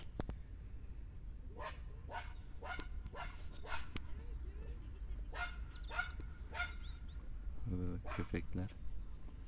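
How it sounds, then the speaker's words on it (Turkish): Several dogs in a town bark in short bursts, somewhat distant, over a steady background hum, with a few yips and a whimper near the end, while people talk; a rooster is nearby. "Köpekler"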